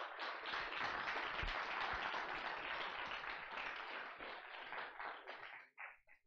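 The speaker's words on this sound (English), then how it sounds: "So please, a warm round of applause." Audience at the iCUBED 2017 event giving a warm round of applause, dense sustained clapping from many hands that thins out into a few scattered claps at the end.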